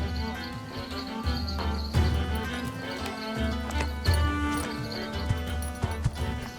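Relay horses gallop in a rapid, rhythmic clip-clop of hooves under a swelling orchestral score during a Mongol Empire cutscene, with occasional neighing.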